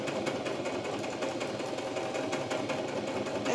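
A sewing machine stitches through paper on a small paper pad, a steady close mechanical whir and rapid needle chatter that runs continuously at a moderate, even level with no talking.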